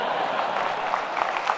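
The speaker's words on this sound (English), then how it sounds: "Give yourselves a big round of applause." A university audience at a State of the University address breaks into a brief burst of applause, dense, fairly loud and steady throughout.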